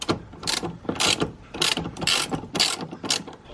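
A ratchet wrench with an E14 socket loosens the seat belt bolt during a front seat install in a Saab 9-3, clicking in quick repeated bursts close to the mic.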